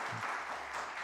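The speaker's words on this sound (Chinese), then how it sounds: "我们拍手来鼓励他们来伫这节目的中间。" A church congregation claps their hands during a worship service, a brief, dense burst of applause filling the hall.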